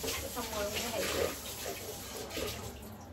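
A plate being washed under a running kitchen tap, a steady hiss of flowing water with splashing surges as the plate is moved, fairly close and continuous.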